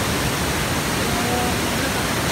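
Oimarai waterfall near Tambora during a light drizzle, a loud, steady, dense roar of falling water that fills the whole moment with no variation.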